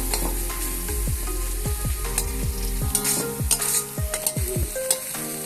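Potatoes fry in a pan for khosla greens chorchori as a spatula stirs them, with repeated scraping strokes over a steady sizzle, close and fairly loud, no voices.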